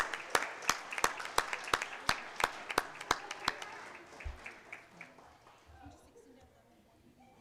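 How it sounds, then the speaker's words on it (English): A small group claps in an evenly spaced, crisp series of separate claps at a board meeting, then it thins out and fades as voices take over near the end. "One more round of applause for them."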